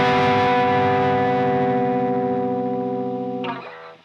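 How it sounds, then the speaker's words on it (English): An electric guitar rings out a compact three-note major 7 chord voicing through effects and distortion, with a sustained shimmering tone that holds steadily before being choked off near the end. "This major 7 voicing is really compact and leaves a lot of room as it's only 3 notes."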